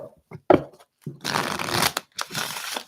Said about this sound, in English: One more shuffle and then we get to go.